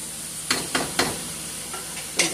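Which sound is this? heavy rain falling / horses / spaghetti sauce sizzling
spaghetti sauce sizzling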